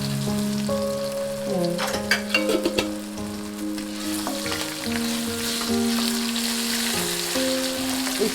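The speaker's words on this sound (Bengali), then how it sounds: "এই চিনিটা কিন্তু তেলের সাথে নাড়াচাড়া হবে।" Sugar stirred into hot oil in a pan while cooking dhokar dalna, giving a steady close sizzle with scraping stir strokes, mixed with tonal background sounds and no speech.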